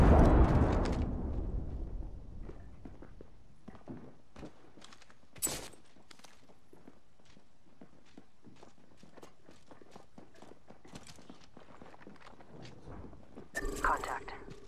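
A frag grenade goes off in the Apex Legends battle royale game with a loud, low boom at the start that slowly dies away. Scattered footsteps, a sharp crack and other in-game effects follow.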